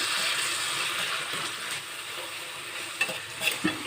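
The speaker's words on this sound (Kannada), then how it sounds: "ಇವಾಗ ಹುಂಚೆಣ್ಣಿನ ರಸವನ್ನು ಸೇರಿಸ್ಕೊಳ್ಳಿ ಇದಕ್ಕೆ ಸೇರಿಸಿ ಥರ ಮಿಕ್ಸ್ ಮಾಡ್ಕೋಬೇಕು" Tamarind juice being stirred into poha puliyogare in a pan, with a steady soft sizzle and scraping throughout and a few sharper spoon knocks near the end, alone without talk.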